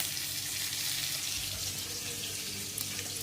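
Water runs and splashes in a kitchen while cooking an avarekai and jowar roti meal, a steady, hissing stream, soft and continuous without talk.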